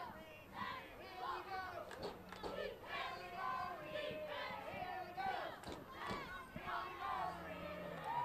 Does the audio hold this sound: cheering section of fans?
yes